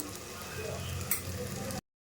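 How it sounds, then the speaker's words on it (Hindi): Mutton sizzles and fries in a pan while being stirred for an Odia-style curry, a steady close crackle with light scraping and one brief clink before it cuts off abruptly. "देखो केते सुंदर भाव में मटन कषा हो आसला"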